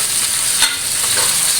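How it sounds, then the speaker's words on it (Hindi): Kebabs frying in a pan, a steady loud sizzle with crackling bursts running through the whole short stretch, close up and alone. "यहाँ पे कबाब फ्राई हो रहे हैं"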